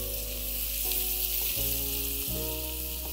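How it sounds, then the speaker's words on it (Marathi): Finely chopped onion fries with turmeric and ground coriander-cumin powder in a hot tempering over high flame, a steady close sizzle with soft stirring and no talk. "बारीक चिरलेला कांदा घेतलाय तो फोडणीला द्यायचा आहे."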